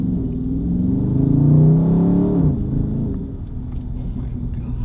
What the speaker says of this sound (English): Ooh, those downshift pops, you hear that?